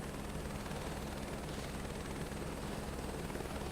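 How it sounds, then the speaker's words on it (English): A helicopter in the Microsoft Flight Simulator video game, heard as a steady, dense rotor and engine drone that stays loud and unchanging throughout, with no voices. "My least favorite thing to do in these helicopters is taxiing."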